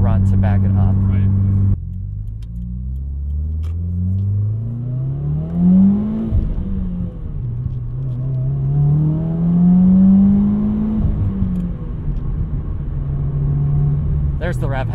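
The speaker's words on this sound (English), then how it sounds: "There's the rev hang a little bit." A 2020 Subaru WRX engine revs up to redline in a low, droning climb, then drops and climbs again with the revs hanging briefly before falling, heard loud and close from inside the car.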